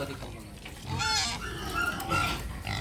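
Native pigs grunt and squeal while being fed napier grass, several close, loud bursts of snorting and high squeals over rustling feed noise.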